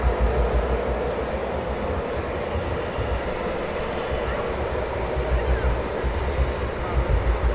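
Eurofighter Typhoon jets of Cobra flight taxiing at RAF Coningsby at night produce a continuous low engine rumble and whine, steady with slight swells, heard from a distance.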